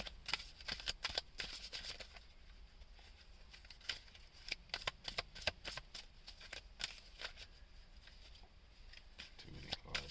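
Tarot cards are shuffled in quick, crisp bursts of riffling and slapping, with clusters of sharp paper snaps spread across the stretch, close and soft against a quiet room.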